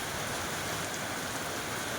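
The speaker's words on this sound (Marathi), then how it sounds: "हा धोधो पडणारा पाऊस" Heavy pre-monsoon rain in Goa pours down in a dense, steady hiss, loud and continuous, with no voices.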